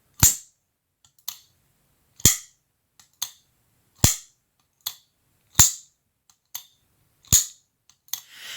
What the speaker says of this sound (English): this knife is loud